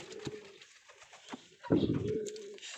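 A pair of Giribaz pigeons coos softly in short, quiet bursts, with a fuller coo near the end.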